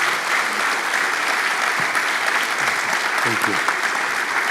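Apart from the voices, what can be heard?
audience applause for a minister at a conference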